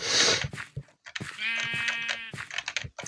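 A Minecraft sheep bleats in a drawn-out wavering cry amid clicks and brief noise bursts, close and fairly loud.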